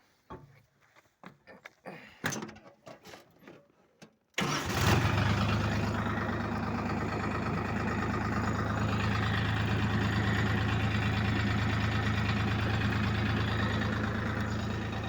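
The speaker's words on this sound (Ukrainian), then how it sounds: "Оремо на другій передачі середнього діапазону." A DT-75 tractor engine pulling a Bomet plough while ploughing in second gear of the middle range: a few soft clicks, then the engine catches and settles into a loud, steady, rumbling drone.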